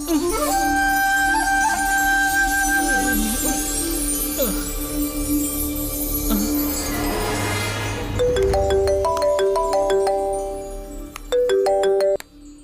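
A phone on speaker rings loudly after a number is dialed, a repeating electronic ringtone melody that fills the space, followed by a run of stepped tones near the end.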